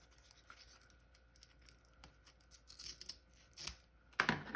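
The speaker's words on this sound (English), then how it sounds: "I'm going to just snip this a little bit off" Scissors snipping paper for a handmade gift card holder, a few quiet scattered cuts followed by a louder, crisper close snip at the end, no speech.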